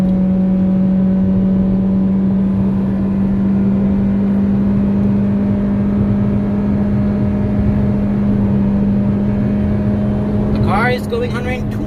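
2019 Honda Civic 1.8 i-VTEC accelerating hard in S mode, heard from inside the cabin as a loud, steady engine drone holding one climbing tone, with a voice speaking briefly near the end.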